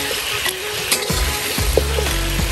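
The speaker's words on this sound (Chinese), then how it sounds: "煎至双面金黄呢，这个水分呢基本炒出来之后呢，我们就可以取出备用" Chicken pieces pan-frying for Cantonese claypot chicken, a steady close sizzle with a few scraping stirs of a spatula against the pan, no talking.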